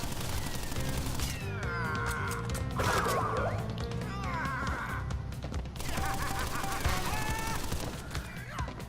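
Tommy gun bursts in Crash Bandicoot N. Sane Trilogy, rapid rattling fire mixed with game crashes, tonal effects and music, moderately loud.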